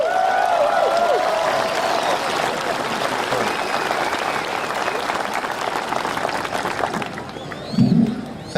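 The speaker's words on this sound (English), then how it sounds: "Give him a round of applause." Sustained applause from a crowd at a military memorial run event welcomes a captain, a dense steady clapping wash lasting several seconds, with faint voices in the background and a few louder shouts near the end.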